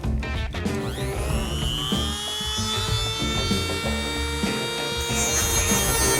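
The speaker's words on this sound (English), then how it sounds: "I am going to grab my Chicago Electric high-speed cutoff tool, and I'm going to try to go in and do some basic leveling on here." A Chicago Electric high-speed cutoff tool grinding down an aluminum weld on a grille: a loud, high whining spin with shifting pitch, rising and falling steadily as the wheel bites into the metal.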